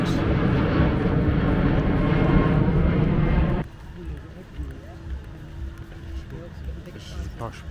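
A loud roar of an airplane passing low overhead on a very hot day near the coast in Montenegro, dominating for nearly four seconds then cutting off abruptly to quieter outdoor ambience.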